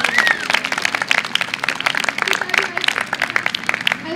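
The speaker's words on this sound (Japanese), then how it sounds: "で自分に拍手。" Students at a Japanese school singing-and-dancing program clap for themselves, a quick rapid patter of many hands with sharp, dense claps, while a voice speaks over it.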